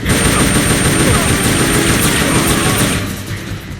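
Sustained machine-gun fire in the video game Metal Gear Solid Peace Walker, a loud, dense rattle of rapid shots running for about three seconds before easing off, with faint mechanical droning underneath.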